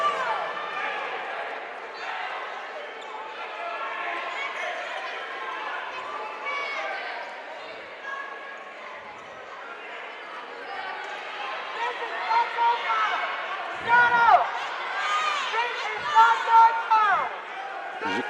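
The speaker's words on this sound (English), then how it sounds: "As you can hear the crowd" Crowd noise in a gym during a men's college basketball tournament semifinal, a steady murmur of disgruntled voices reacting to the officiating, with a few louder bursts and court thumps toward the end.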